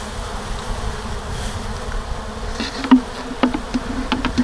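Honey bees buzzing at close range while settling into a new hive, a steady droning hum with individual insects zipping past louder now and then, and no voices.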